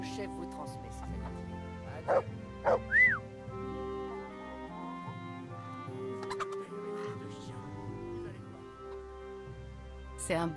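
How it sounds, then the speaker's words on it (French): A dog in the medieval role-playing game Kingdom Come: Deliverance gives a few short barks and yips early on, amid game music and ongoing speech. "C'est un bon chien, ça."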